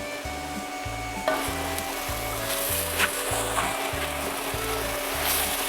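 Onions tipped into a hot pan for a veal cutlet sandwich, a sudden swell of sizzle and frying crackle that continues steadily up close, with a few louder spits and no talking over it.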